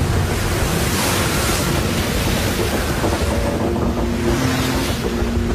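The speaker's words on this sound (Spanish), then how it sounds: "Los incesantes vientos hacen que el agua del mar que tienen debajo se mueva." Wind blowing over a moving stretch of open ocean, a steady loud broadband roar of gusts and churning water that holds without a break.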